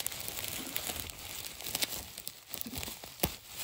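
Adhesive tape crackles and rips in repeated short tearing bursts, close up, with a crinkling of plastic packaging in between, as a toy is unboxed.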